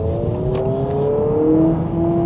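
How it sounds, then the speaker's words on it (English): A 2026 Honda Prelude engine drones steadily with falling and rising pitch as it shifts down through gears, each drop followed by a quick rev-matching blip. "when you are slowing down, the downshift does give you all the rev matches and things"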